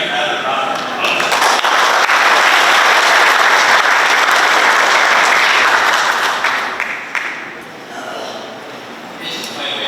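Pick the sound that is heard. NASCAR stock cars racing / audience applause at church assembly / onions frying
audience applause at church assembly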